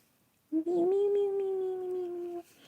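A fox gives one drawn-out, cat-like mewing cry that rises briefly and then holds steady for nearly two seconds, loud and close, with silence before and after.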